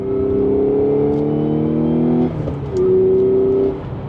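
A 2016 Audi S5 manual with a Stage 3 clutch drones steadily at high revs, breaks off briefly as it downshifts to third, then surges again with a strong accelerating whine.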